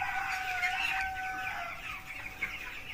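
Many chickens on a poultry farm cluck and chatter together in a steady, busy din, with a rooster-like call rising in the middle; no voices.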